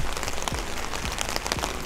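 Steady rain pattering on a surface outdoors at a car detailing and wrapping workshop, a dense continuous hiss with scattered louder drops and low thuds.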